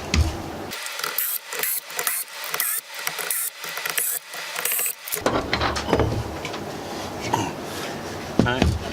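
Screws are backed out of the side panel of a Roland Micro Cube guitar amp with a ratcheting screwdriver. Close, repeated clicking runs in short runs, mixed with tool handling and metallic rattles.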